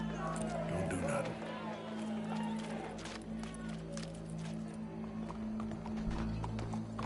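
Horse hooves clip-clopping in Red Dead Redemption 2, steady rhythmic hoofbeats close by over a low ambient hum, with a whinny and faint crowd murmur mixed in.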